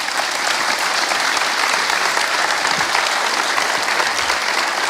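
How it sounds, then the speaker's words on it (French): An audience claps warmly for three guests at the close of a French discussion stream, a loud, dense, continuous wash of applause that stays even throughout. "on vous applaudit avec chaleur"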